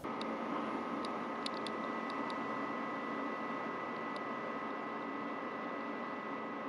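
A steady cooling-fan whir from a Wemax Vogue Pro video projector with a faint tonal hum, continuous and even, plus a few soft clicks near the start.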